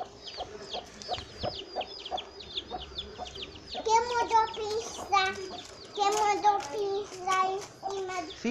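Baby chicks peep in rapid, high, repeated chirps in Mamanguape, Paraíba, Brazil. The peeping is steady at first, then someone talks over the continuing calls.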